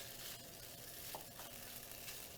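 Chopped green onion, the white part, sizzles in a hot pan while cooking for tofu vegetable fried rice, a steady quiet hiss with a soft scrape or two.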